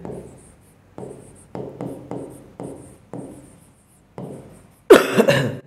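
Pen or chalk writing a math formula by hand, a series of about seven short scratchy strokes in a steady rhythm, close and clear, followed by a brief louder cough-like burst at the end.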